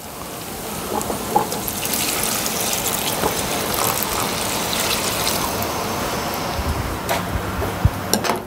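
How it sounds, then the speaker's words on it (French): Tempered water is poured into a hot rondeau pan to deglaze it, producing a loud continuous rushing, bubbling hiss with a few clanks, close up and without talking. "Nous allons déglacer à l'eau tempérée pour un meilleur échange."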